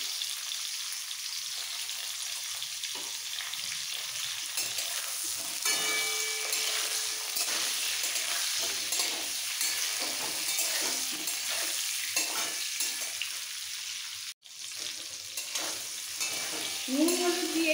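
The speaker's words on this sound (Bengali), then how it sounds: "নুন হলুদ দিয়ে একটু নাড়াচাড়া করে" Salt and turmeric being stirred into hot oil in a pan for green mango chutney, a steady sizzle with scraping stir strokes throughout, fairly close and without talk.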